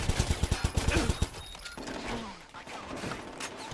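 Rapid automatic gunfire in Watch Dogs 2: a quick burst of about a dozen close, evenly spaced shots in the first second, then fading into game ambience with a voice talking.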